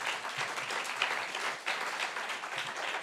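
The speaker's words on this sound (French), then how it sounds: "Je vous propose d'applaudir nos deux intervenants" An audience at a medical conference on care and secularism applauds two speakers, moderate steady clapping in a hall that swells and dips slightly, with no voices over it.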